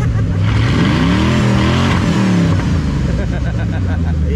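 A Ford Crown Victoria race car with cut exhaust revs hard and close, its loud, rough engine rising and falling in pitch, with people talking nearby.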